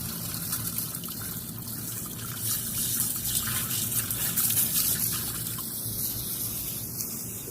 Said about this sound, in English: Now the water is basically running,